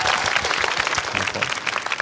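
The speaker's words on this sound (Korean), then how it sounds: "박수 부탁드릴게요." Audience applause after a contestant finishes in an interpreting competition final, a steady burst of many hands clapping at moderate level.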